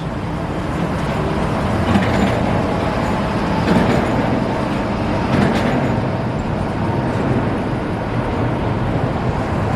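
Las Vegas monorail train pulling out of Sahara station, a steady broadband rumble and whir of the moving train with slight swells, heard from nearby with no talking.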